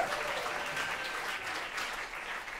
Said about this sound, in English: Clap it up for this hero right here.